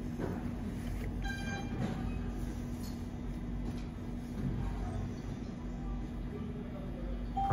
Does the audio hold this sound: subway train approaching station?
yes